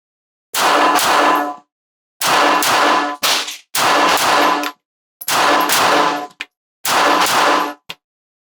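Six sharp, loud pistol shots from a Smith & Wesson Bodyguard 2.0 with a carry compensator at an outdoor range, fired in a steady series with short gaps, each crack followed by a brief ringing tail.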